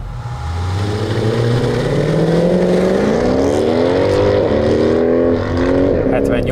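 A sports car engine revs up at a race track with a rising, throaty exhaust roar, loud and close, climbing steadily in pitch.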